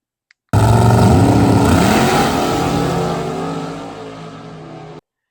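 A truck running compressed air supercharging roars loudly as it boosts and accelerates away, a steady strong engine note that rises in pitch, then gradually fades over several seconds.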